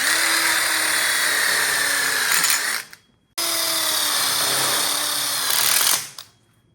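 A power drill drives a screw into a clamped telescoping module of a DIY outdoor kitchen in two loud, steady whirring bursts, each winding down to a stop with a short silent pause between them.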